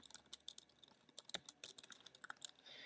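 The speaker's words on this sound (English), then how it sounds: "And then you'll just type the address of" Keys clatter on a computer keyboard as a website address is typed, a quick irregular run of light, close clicks in a quiet room.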